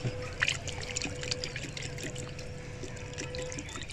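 Kitchen water poured into a container to make organic fertilizer: a soft, continuous trickle and splash, close and quiet, with faint background hum and no talk.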